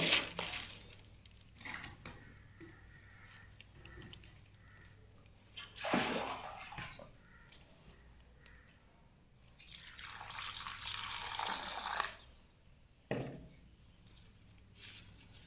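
Grated bitter gourd is washed by hand in water in a bowl: close, uneven splashing and swishing in several bursts with dripping between them, and no voices.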